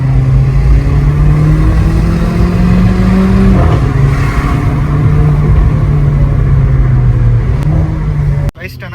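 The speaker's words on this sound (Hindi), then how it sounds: "अब हम टेस्ट करेंगे अपने एग्जॉस्ट को" A Polo GT fitted with a Valvetronic exhaust drones loudly and steadily on a city street, its engine note holding and rising slightly, with a sharp knock near the end.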